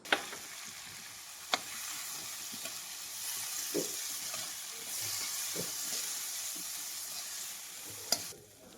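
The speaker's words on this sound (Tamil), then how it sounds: "வெங்காயம் வதங்கினதுக்கப்புறம் நம்ம கடலை பருப்பு அதோடு போட்டு நல்லா வதக்கி விட்டுக்கலாம்" Chana dal and onions fry in a pan with a soft, continuous sizzle, broken by occasional sharp taps and scrapes of a spatula stirring them, fairly quiet and close.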